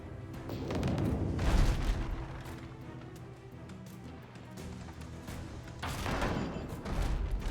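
Ship cannons boom during a naval battle in Abandon Ship, deep rumbling blasts rolling over a continuous low battle din, with a heavier burst near the start and another toward the end.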